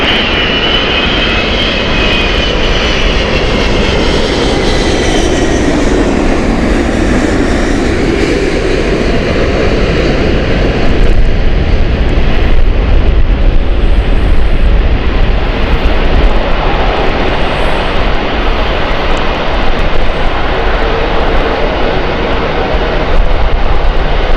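An Emirates Airbus A380's engines roaring at Gatwick Airport, a loud, sustained jet rumble with a slow pitch sweep as the aircraft passes, steady throughout with no talk.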